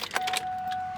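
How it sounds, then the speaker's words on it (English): A fuel pump switching on in an SVT Cobra, heard as a short mechanical hum with a steady whine that starts and holds close by, with a few faint clicks at the start. "here the pump's coming on"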